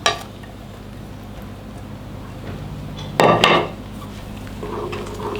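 A spoon stirs chopped green onions into a pot of boiling broth made with garlic and dried shrimp, giving a soft steady bubbling background and a short, loud clatter of metal against the pot midway.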